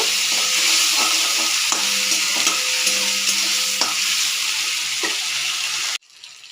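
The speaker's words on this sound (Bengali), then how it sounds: "এরপর আমি তেলের মধ্যে বাটা মশলাটা দিয়ে দেবো দিয়ে বেশ কিছুক্ষণ তেলে নাড়াচাড়া করে নেব" A ground paste of ginger, cumin and green chilli sizzles loudly in hot oil for a potato curry, with a few soft stirring knocks, before the sound cuts off abruptly near the end.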